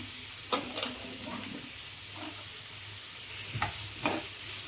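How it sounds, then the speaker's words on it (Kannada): Chopped vegetables with capsicum fry in a pan, a soft steady sizzle punctuated by a few scraping stirs of a spoon, fairly quiet and close. "ಫ್ರೈ ಮಾಡ್ಕೊಳ್ಳೋಣ ಹಾಗೆ ಸ್ವಲ್ಪ ಕಲರ್ ಚೇಂಜ್ ಆಗಲಿ"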